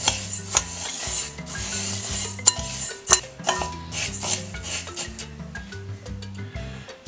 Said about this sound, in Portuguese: Vamos misturar bem.